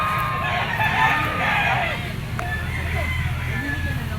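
A gamecock bull stag, a super brown red, crows once in a strained, wavering call over the first two seconds, with faint background murmur and rustling at a fowl sale.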